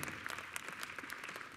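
Audience applause at a youth Latin dance competition in Belarus, a dense, steady wash of many hands clapping with a few sharper claps standing out, fairly distant and even throughout.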